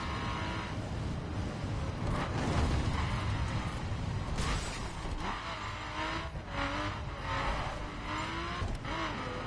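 A Porsche drives fast in the video game The Crew, its engine revving and shifting pitch over a steady road roar, with a few sharp impacts or scrapes along the way and no talking.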